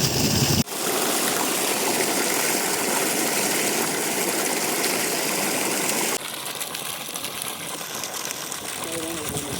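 Water gushes from a solar-powered borewell pump on a farm, a loud, steady rushing flow that drops slightly in level partway through, with a voice talking faintly underneath.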